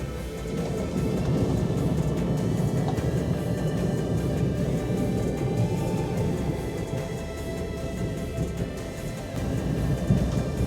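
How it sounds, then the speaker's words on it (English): A Delta airliner taking off from the runway, heard from inside the cabin as a loud, steady low roar and rumble of engines that holds for the whole stretch. "Wow, that's a really steep takeoff."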